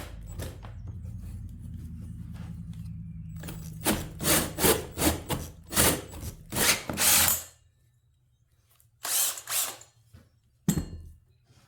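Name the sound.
hole saw cutting into scrap wood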